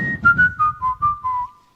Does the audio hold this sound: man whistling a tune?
yes